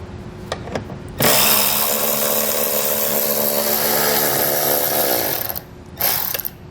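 A power tool spins out 10mm bolts from a plastic trim piece on a 2018 Tesla Model 3 (rack receiver install): a brief tap, then one loud, steady whirring run of about four seconds, followed by a shorter burst.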